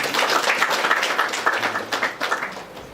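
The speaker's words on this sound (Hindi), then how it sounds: "ताली बजाओ इसके लिए।" A group claps for a child, a brief burst of close, lively hand clapping that thins out into a few scattered claps near the end.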